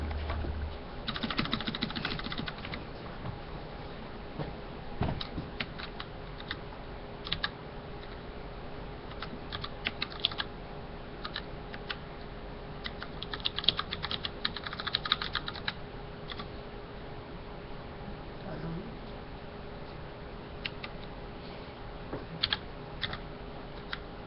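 Someone types on a quirky computer keyboard, faint scattered key clicks coming in loose irregular bursts over a steady low room hiss, with no talking.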